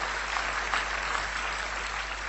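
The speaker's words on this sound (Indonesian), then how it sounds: "Berikan tepuk tangan yang meriah buat Tuhan" A church congregation claps together in a dense, steady wash of applause that holds at an even level from start to finish.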